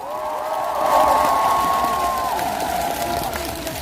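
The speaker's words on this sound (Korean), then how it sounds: "우리 자축의 박수를 한번 보내볼까요?" A festival crowd at the Bonghwa sweetfish festival claps and cheers in heavy rain, with a sustained tonal whoop or shout riding over the noise for a few seconds before it fades back into general crowd sound.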